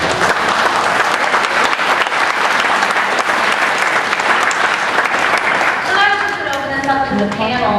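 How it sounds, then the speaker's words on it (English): Audience at a roundtable on property tax reform bursts into loud, dense applause that holds steady, then a voice begins speaking as the clapping thins toward the end. "You should applaud yourselves for being here."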